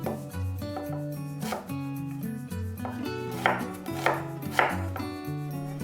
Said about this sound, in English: Cut the onion into chunks.